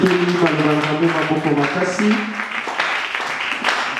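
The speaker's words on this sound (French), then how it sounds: "On acclame très fort la parole de Dieu" A church congregation applauds loudly at a service, a dense wash of clapping running throughout with a sung or spoken voice sustained over the first half.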